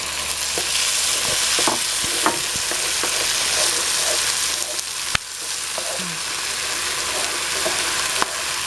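Tomatoes tipped into a hot frying pan with a meat, rice and vegetable mix sizzle in a steady, loud hiss, broken by occasional clinks and scrapes as the pan is stirred.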